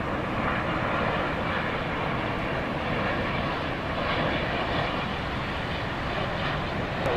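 An airplane at Dallas Love Field gives a loud, steady jet engine roar that holds evenly throughout, with no voices.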